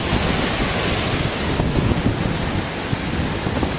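Pacific Ocean surf rushes continuously onto the shore, a broad, steady roar with wind buffeting the microphone up close.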